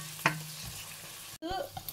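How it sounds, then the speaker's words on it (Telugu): Onions and green chillies fry in a pan for a carrot egg bhurji, making a soft, close sizzle with a couple of brief stirring scrapes over under two seconds. "ఇది కొంచెం ఫ్రై అవ్వనిద్దాము ఆనియన్స్."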